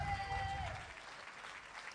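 A church congregation applauds Jesus at a sermon, broad steady clapping over about two seconds, with a sung or spoken voice trailing off at the start.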